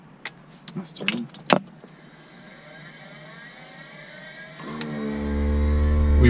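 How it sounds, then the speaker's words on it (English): A small airplane engine cranks and catches after a few clicks and bumps, building from quiet into a loud, steady low drone by the end. "Okay, we're gonna start the airplane now."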